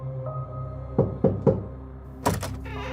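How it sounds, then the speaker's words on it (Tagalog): Three sharp knocks rap on a door in a quick, evenly spaced sequence, close and clear against a steady low hum, followed by a heavier thump or door movement. "3 katok ang nagmula sa pinto bago pumasok si Lola Uring"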